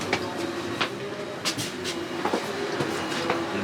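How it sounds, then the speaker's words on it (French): An international train riding on rails, heard from inside as a steady rolling rumble with recurring clickety-clack wheel clicks at a moderate, fairly loud level. "J'ai l'impression que notre train international ressemble à un métro."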